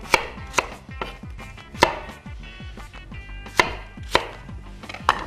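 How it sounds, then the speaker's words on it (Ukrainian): An apple being chopped with a knife on a board, a series of about a dozen crisp, close cuts and thuds in an uneven rhythm with a quiet kitchen background. "так само нарізаємо яблуко"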